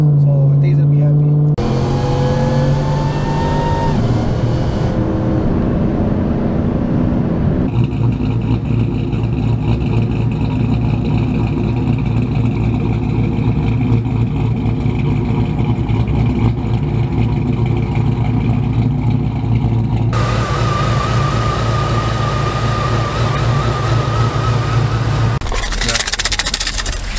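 A Whipple-supercharged GMC Sierra truck engine revs and rumbles loudly and continuously, its pitch rising and falling through several revs, with voices talking over it.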